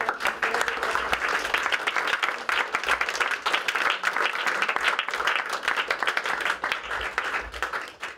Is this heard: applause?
yes